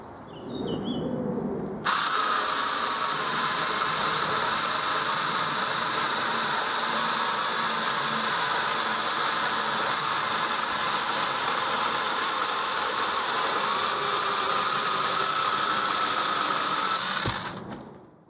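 A cheap eBay mini chainsaw cuts into a six-inch green log. The motor revs up, then gives a loud, continuous buzzing whine for about fifteen seconds before cutting off abruptly.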